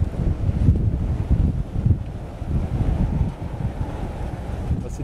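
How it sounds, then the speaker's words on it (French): Strong storm gust roaring over the microphone in Tornado Alley, a loud, buffeting low rumble of wind that swells and dips continuously for several seconds with no voices. "c'est en fait le vent de l'orage qui nous arrive dessus"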